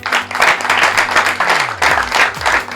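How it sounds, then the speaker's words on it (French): Studio audience on a French television set applauds as a guest is called up, loud dense clapping in waves over a low hum, with brief voice-like tones mixed underneath. "Monsieur Laurent Lokwa, venez sur ce plateau sous vos applaudissements."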